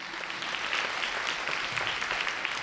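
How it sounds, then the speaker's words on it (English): A live audience at the Up + Atom 2026 event gives a round of applause, a dense, steady wash of many hands clapping at moderate volume throughout. "Another round of applause for them."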